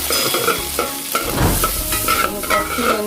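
Onions with salt sautéing in a pan, a close, loud sizzle broken by repeated rhythmic scraping and stirring strokes of a spoon.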